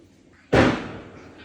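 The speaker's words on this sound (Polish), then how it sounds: "fajerwerki to po prostu masakra tutaj u nas" A single sharp New Year's Eve firework boom bursts out in Berlin, loud and a bit distant, its rumble trailing off over the next second.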